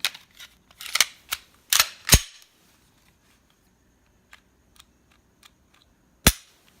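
A Glock 17 Gen 3 fitted with an Overwatch Precision TAC trigger makes sharp, close mechanical clicks during dry-fire. A quick cluster of snaps comes first, then faint ticks, and one last crisp click follows after a quiet pause.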